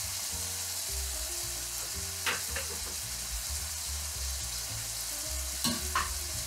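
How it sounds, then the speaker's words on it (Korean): Spaghetti being stir-fried with tomato sauce in a pan, a continuous close sizzle with a few soft scraping stirs and light clinks of the utensil against the pan, over a faint background hum. "이제 스파게티 면을 넣어주고 함께 소스랑 잘 볶아줍니다"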